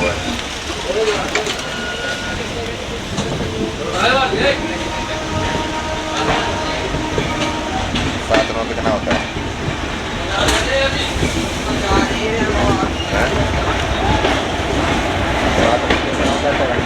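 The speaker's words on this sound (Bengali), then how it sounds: "এই যে আমাদের ট্রেন" The Sabarmati Express (19167) rumbles past on the tracks between Ayodhya and Varanasi with steady rolling noise and rhythmic clatter, while people talk nearby throughout.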